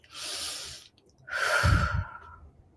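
A slow, deep breath during a calming tapping relaxation exercise: a long airy inhale, a short pause, then a fuller, louder exhale with a soft throaty rasp, close and alone without speech.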